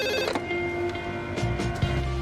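A telephone rings out on a call to Angel Pizza in an action film, a tonal electronic ring with a few repeated bursts, close and clear, lasting a couple of seconds with no talking.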